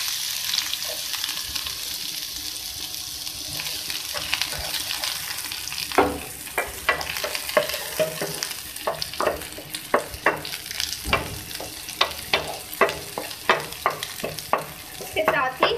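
Onion frying in a little oil in a pan for samosa filling: a steady sizzle, then from midway a run of rhythmic spatula scrapes and clacks against the pan over continuous frying.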